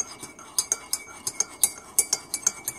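A metal utensil stirs a liquidy turmeric mixture in a cup, giving a quick run of bright clinks and taps against the sides, close and fairly regular, with no one talking.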